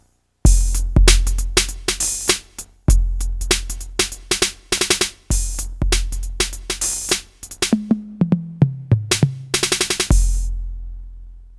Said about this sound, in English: It's actually from the Roland TR-808 drum machine.